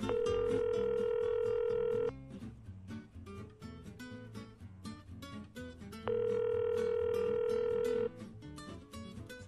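Repeated telephone ringback tones sound out over background music, two long steady tone bursts separated by a few seconds, a call placed to a Samsung battery seller that goes unanswered.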